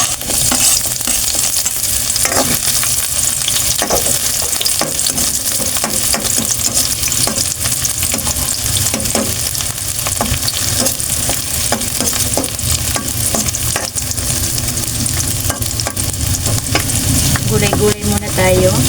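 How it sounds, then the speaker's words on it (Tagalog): Garlic and onion sautéing in a pan for a cabbage-and-sardine dish, a continuous loud sizzle broken by frequent scraping and clattering stirs throughout. "igisa po muna natin itong bawang at sibuyas"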